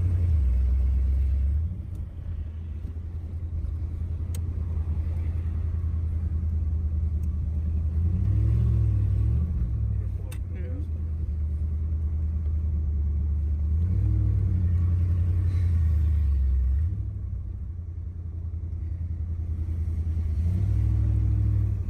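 A 1972 Corvette engine idles with a deep, steady low rumble, swelling in a few revs as the car pulls away and drives around the block, loud and close throughout with no talking.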